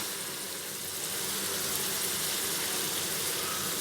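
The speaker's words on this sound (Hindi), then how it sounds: "अब इसके अंदर मैं ये सब्ज़ी ऐड कर दूँगी, इसको थोड़ी देर भून लेते हैं" Vegetables fry in masala in a pan for a dal khichri, producing a steady, even hiss of sizzling that holds at a constant moderate level throughout.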